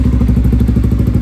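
Honda Winner X 150 motorcycle on a test drive after a chain adjustment, a loud close engine with a fast, even thumping pulse and rattly clatter running throughout, no speech.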